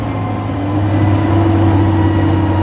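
An Amphicar's engine pushes hard while the little amphibious car cruises on the water, a steady loud mid-low drone with a strong tonal hum that swells slightly over a few seconds, no voices.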